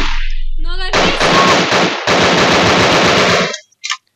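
Gunfire in the horror game Nightmare House II, a loud, close burst of rapid automatic shots lasting a few seconds, then a couple of faint trailing clicks.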